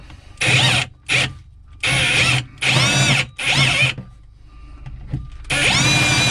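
A power drill with a pilot bit boring into a wooden boat hull, running in several loud close bursts of about half a second to a second each, separated by short pauses, with a whining motor pitch.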